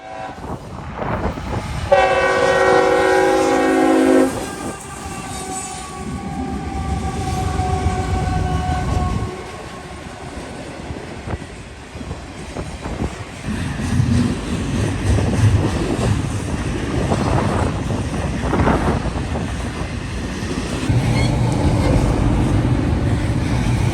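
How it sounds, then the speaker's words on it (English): A freight train led by an ES44AH locomotive, with a rebuilt SD70 and a YN2 unit trailing, sounds several loud horn blasts. A heavy rumble and clatter of cars follows as it passes close by in Northern Ohio. "Leading the way is an ES44AH with a flared rebuilt SD70 Max second and a now rare YN2 third."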